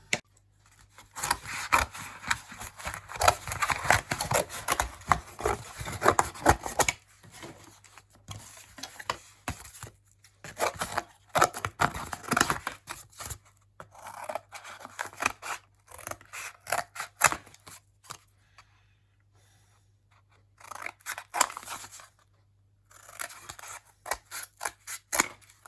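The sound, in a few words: cutting out a template plate for Mk1 Escort bulkhead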